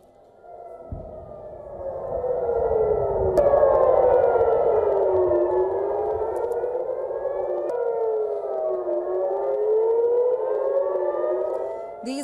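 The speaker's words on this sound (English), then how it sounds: "These are the images of sirens blaring over central Israel after missiles streaked across the sky" Air raid sirens wail across central Israel during a ballistic missile attack, several rising and falling tones overlapping in a loud, sustained, slowly sweeping drone that fills the whole stretch with no voices.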